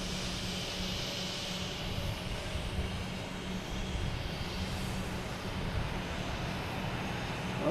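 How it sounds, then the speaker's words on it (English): A Delta Airbus A321 takes off from Boston Logan, its engines a steady, broad roar heard from a distance, holding without a break throughout. "we have a Delta taking off here, heading to Detroit, an A321."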